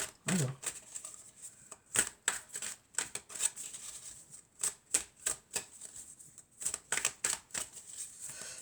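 Oracle cards are shuffled in repeated quick riffling bursts with brief pauses between them, close and clear, with no talking over them.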